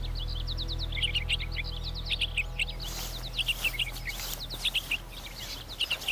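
A small bird chirps in quick repeated high tweets, bursts of rapid notes running throughout over a low steady hum, close and fairly loud, with no talking.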